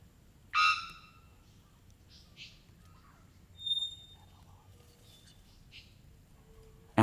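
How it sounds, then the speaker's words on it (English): A bellbird calls in Central American tropical forest: a few sharp, ringing notes spaced by long quiet gaps over a soft, hushed forest background. "bellbird is also an extraordinary case among the megaphones of the tropical forests of Central America"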